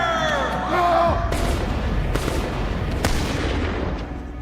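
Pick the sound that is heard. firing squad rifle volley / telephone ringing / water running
firing squad rifle volley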